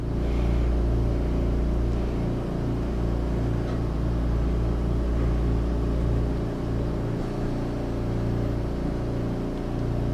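A torch flame melting a clear glass rod off a glass marble gives a steady, close, unbroken roar with a low droning hum underneath, constant throughout, with no voices.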